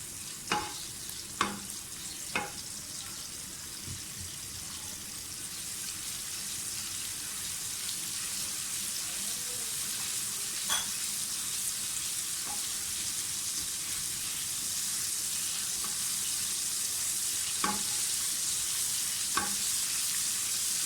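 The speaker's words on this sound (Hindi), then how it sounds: "मैंने ऑयल डाल लिया है, तकरीबन 3 टेबल स्पून मैंने ऑयल डाला है, और लहसुन का पेस्ट। इसको थोड़ा सा सोते करें।" Garlic paste sautés in about three tablespoons of hot oil, giving a steady, close sizzle with a few soft clicks and pops throughout.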